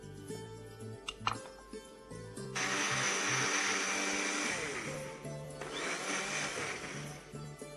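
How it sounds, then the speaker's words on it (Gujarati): A kitchen blender roars steadily as it roughly crushes a cup of half-hour-soaked rice with water, starting abruptly after a few clinks and running loud and continuous, with a brief dip in pitch midway. "એને રફ ક્રશ કરવાના છે. એને પાણી સાથે જ ક્રશ કરી દઈશું."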